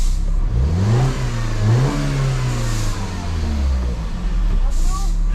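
A Mini Cooper engine with a misfire and DME fault revs up and accelerates close by, its pitch rising and falling loudly as a voice talks over it.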